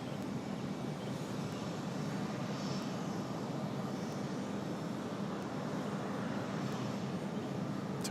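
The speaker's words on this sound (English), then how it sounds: "about an hour and 46 minutes of flight time for this A319 coming in from Miami" An Airbus A319 arriving from Miami at Raleigh Durham airport, heard as a faint, distant, even jet-engine hum that holds steady without any voices.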